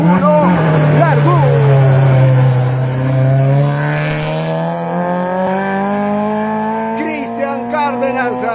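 A rally car launches from the start of the first special stage on a rally at Tambillo, engine revving up loud and close then pulling away in a long rising, fading whine, with an announcer counting down and shouting over it.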